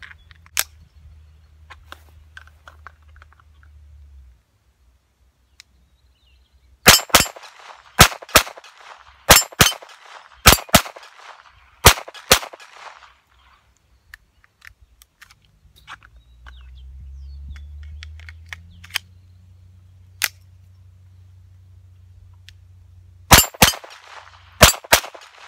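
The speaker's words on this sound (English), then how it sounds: "I'm gonna try to do some double taps on the 10 and 8 inch plates and see how that goes." Ruger Mark III 22/45 .22 pistol firing quick double taps at 10 and 8 inch steel plates outdoors: sharp cracks in pairs, each answered by a ringing clang, spread across the clip with low rumble between bursts.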